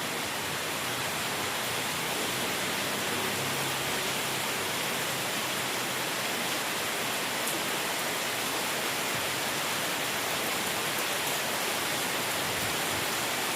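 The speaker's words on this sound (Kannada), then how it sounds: "ಮಳೆ ಬರ್ತಾನೆ ಇದೆ" Heavy rain pours down in Bangalore in a dense, unbroken roar of broadband hiss that holds steady and loud throughout without any pauses.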